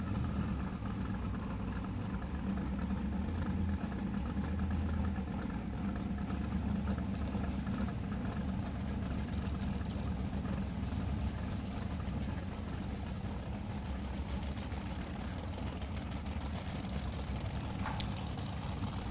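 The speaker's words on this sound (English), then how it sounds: "Car out in the right-hand lane." An Outlaw drag radial race car idling at an Australian radial racing test day, a loud, lumpy low-pitched engine burble that runs steadily and close for the full length, with a small rev flare near the end.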